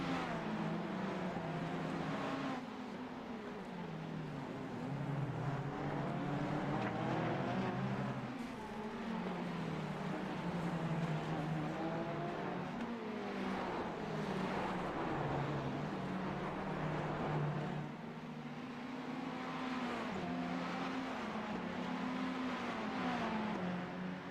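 Ferrari 488 GT3 EVO race cars in a racing video game at the Long Beach street circuit, engines revving and shifting continuously through the lap, loud and steady with rising and falling pitch sweeps as cars accelerate and brake.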